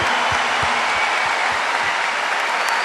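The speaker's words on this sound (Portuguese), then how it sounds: "Uma salva de palmas para essa obra." A large church congregation at a Catholic gathering applauds in a dense, sustained roar of clapping that holds steady throughout, with a soft rhythmic low thumping underneath.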